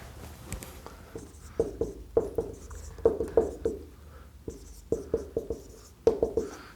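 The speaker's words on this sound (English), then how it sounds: "So first I'll write these two next to each other" Pen or marker strokes writing math equations for a linear equations lesson, a series of quick scratchy taps and scrapes in short bursts with pauses, close and fairly quiet, no talking.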